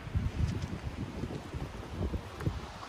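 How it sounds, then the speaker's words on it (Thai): Steady gusting snowstorm wind roaring close to the microphone, with low rumbling buffets rising and falling throughout. "พายุหิมะตกนี่ล่ะ"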